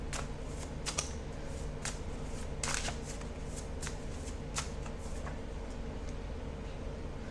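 Tarot cards are shuffled and pulled close up, a run of quick riffling flutters and soft card slaps over a steady background hum.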